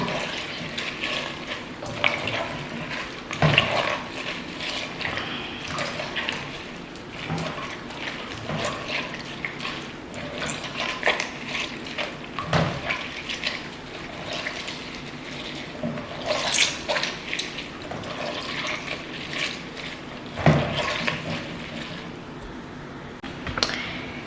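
Water poured over something being rubbed by hand, a steady wet swish and trickle with splashy bursts, close and fairly quiet, no talking.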